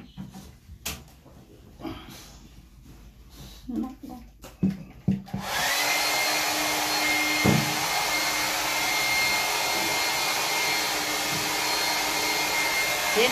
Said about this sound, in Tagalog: naka-blow dryer pa. Full wrap.